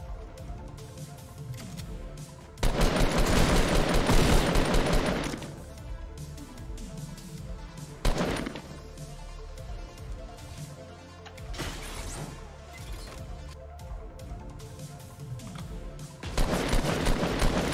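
Bursts of rapid gunfire from the video game Fortnite come in loud volleys with quieter gaps between them, repeating several times without talk.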